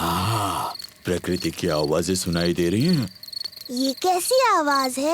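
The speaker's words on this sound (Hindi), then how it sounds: "ये कीड़ों की चींची आवाज है।" Cricket chirping in a cartoon garden at night, shrill and steady, coming in short bursts around a voice that sighs and groans in rising and falling tones.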